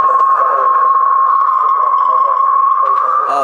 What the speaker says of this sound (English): that's the sound of a tsunami wave